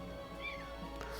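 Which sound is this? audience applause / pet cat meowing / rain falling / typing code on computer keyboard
pet cat meowing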